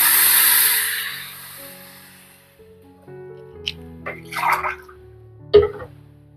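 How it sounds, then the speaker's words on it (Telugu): Water from a glass pours into a cooking pot for a soup, a rushing splash that fades over a couple of seconds, followed by a few small clinks and splashes over soft background music. "నేను గ్లాస్ ఉన్నది వాటర్ వేస్తున్నానండి"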